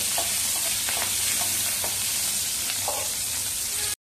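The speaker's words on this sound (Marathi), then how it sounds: "इकडे 2 मिरच्या मी कापून घेतल्यात, त्या घालूया. चांगल्या तेलामध्ये परतून घ्यायच्या." Two chopped green chillies fry in hot oil with a steady, close, hissing sizzle, broken by a few soft stirring taps.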